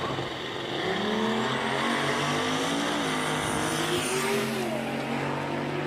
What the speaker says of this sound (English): Caitlin taking ample opportunity to spool on the line and make sure everything is right